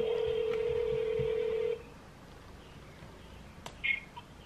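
A telephone line tone holds steadily for nearly two seconds and then cuts off, followed by quiet line hiss and a few brief faint electronic blips as a call is placed.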